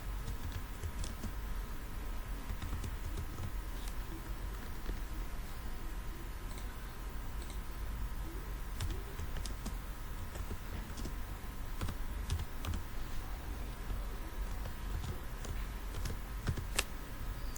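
Fingers type on a computer keyboard while someone adds a printf line to a program, a quiet, steady patter of key clicks running throughout with no speech.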